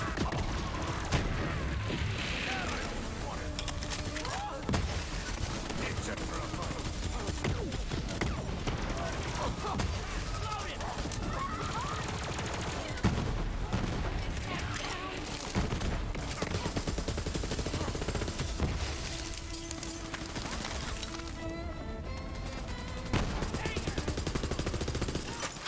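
Gunfire in the video game Borderlands 3, Bounty of Blood DLC: dense, repeated shots and bursts with booms and mechanical clatter, loud and sustained throughout, with a voice briefly audible.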